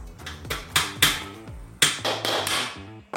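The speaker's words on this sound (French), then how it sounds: "Pour fixer les rails, j'ai sorti la perceuse à percussion et utilisé des chevilles à frapper." Hammer-set wall anchors are driven in to fix veranda rails, giving a series of sharp, irregular hammer strikes with ringing metallic overtones, close and alone.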